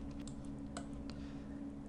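Faint, scattered clicks of keys pressed on a computer keyboard while creating a layer in editing software, sparse taps over a steady background hum.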